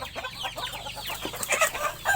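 A hen and a young rooster cluck close by, with short repeated calls and a few louder squawks over farmyard background noise.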